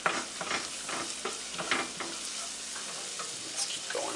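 Flour being stirred into melted butter in a pan for stuffed shrimp: close scraping and stirring strokes over a soft sizzle, irregular and busy, with a few louder knocks of the utensil against the pan.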